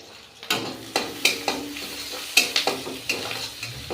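Greens fry in oil with onion and chili, a loud crackling sizzle broken by repeated sharp scrapes and clanks of a spatula stirring the pan, close and busy.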